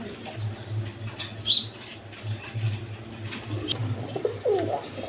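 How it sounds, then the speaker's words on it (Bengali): A pair of Indian Bombay pigeons coo in low, rolling throaty murmurs, close by, with a few brief flaps and chirps in the background and no voices. "দর্শকবৃন্দ এখানে এক পেয়ার ইন্ডিয়ান কবুতর আছে"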